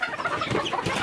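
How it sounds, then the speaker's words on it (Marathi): Hens clucking in a coop just before being let outside, several close, overlapping clucks and short squawks in quick, uneven succession, loud and without talk. "ह्या कोंबड्या आता हे बघा, यांना आपण बाहेर सोडू आता"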